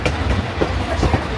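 Durango & Silverton narrow gauge train rolling along the track, giving a steady, close rumble with faint rhythmic clicks from the rails.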